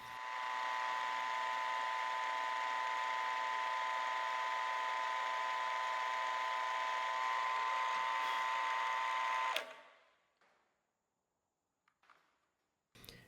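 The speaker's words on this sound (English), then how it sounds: "I'll use the step drill to pop a hole in the scales" A step drill bores a hole through knife handle scales in a workshop, a steady loud whine holding for about nine seconds before cutting off, followed by quiet with a few faint knocks.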